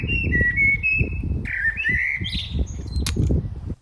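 A blackbird in a garden whistles a repeating melodic phrase resembling an eighties pop tune, clear and close, with bursts of background noise beneath the song.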